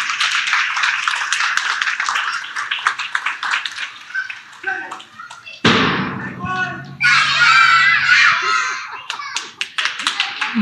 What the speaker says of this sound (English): So can we have a huge round of applause for the students of Montessori 2?